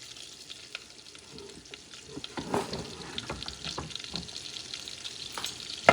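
Garlic chunks and dry parsley fry in a pan, a soft sizzle that swells midway with stirring scrapes and taps, close and steady.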